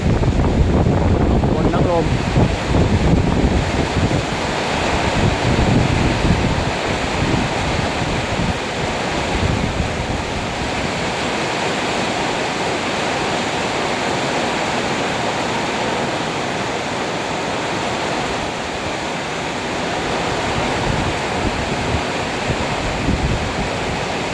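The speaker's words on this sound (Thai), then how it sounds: "ฝนทั้งลมนะครับ" Steady broadband wash of heavy rain with gusting wind, constant and fairly loud throughout, with a few louder bursts near the start.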